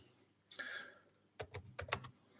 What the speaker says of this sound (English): I'm just going to type here.